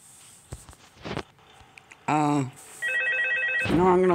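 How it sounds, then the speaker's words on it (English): In the horror game Five Nights at Freddy's 2, a telephone rings in short, bright bursts with pauses between them, after a few soft thuds and clicks, clear and fairly loud. "No, I'm gonna listen to the phone call this time."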